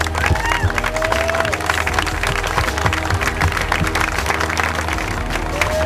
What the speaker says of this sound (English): So please give Rob a round of applause